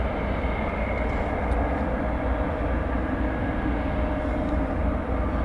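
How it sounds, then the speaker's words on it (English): A Cessna 208B Super Cargo Master at DFW Airport at night gives off a steady, loud, broadband engine roar that holds constant throughout, with no talking. "here is a Cessna 208B Super Cargo Master"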